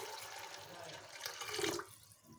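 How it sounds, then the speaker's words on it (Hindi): Water poured into a pot of soaked red beans (lobia) being readied for pressure cooking, a steady splashing pour that swells briefly near the end and then stops, close and fairly loud, with no talk. "इसमें मैं इतना पानी डालूंगी कि जितने में ये लोबिया डूब जाए।"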